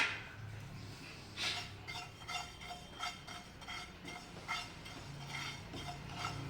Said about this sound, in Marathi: आता याच पॅनमध्ये आपण जे एक चमचा ओवा घेतलेला आहे तो पण भाजून घेऊया